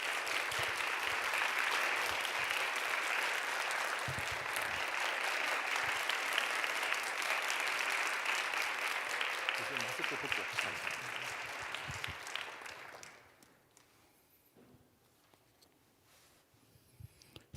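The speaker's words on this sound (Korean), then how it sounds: "우리 교수님 나오실 때 우리 감사와 환영의 박수를 보내주시면 좋을 것 같습니다." Audience at a church youth gathering gives sustained welcoming applause for a professor. It stays full and even for about twelve seconds, then tapers off to near quiet, with a few faint knocks and rustles afterward.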